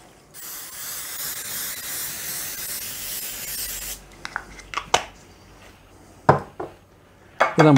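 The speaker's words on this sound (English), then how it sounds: "I'm going to put my pastry mat down and I'm going to spray it." A steady hiss of spray onto a pastry mat lasts several seconds, followed by light clatters and taps of kitchen items being set down.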